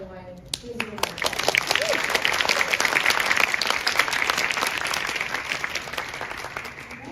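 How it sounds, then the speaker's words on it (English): Audience applause at a Women and Climate breakfast during SF Climate Week swells quickly into dense, sustained clapping that fills the room, then slowly thins toward the end. "Can everyone give Jen a round of applause?"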